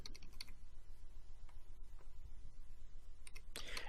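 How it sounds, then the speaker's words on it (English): Quiet computer keyboard typing with scattered key clicks, a short cluster near the start and a denser burst of keystrokes at the end, set against a low background hum. "So we're going to type in world."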